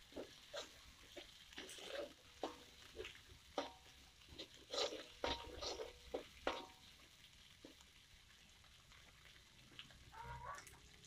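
Spice paste sautéing in a pan for Padang-style spicy yellow tuna curry, a faint sizzle with frequent close scraping and tapping stirs, busier in the middle and quieter toward the end.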